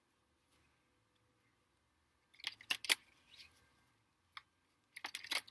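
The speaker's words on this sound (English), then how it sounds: "Let me pull the other cards and see." Tarot cards are pulled and handled in quiet bursts of crisp shuffling, sliding and tapping, separated by near silence.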